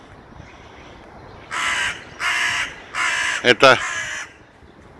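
Crows cawing close by, defending an injured member of their flock hiding under a red car: four loud harsh caws in a row, the last two quick and overlapping, over quiet outdoor background, with a brief spoken word.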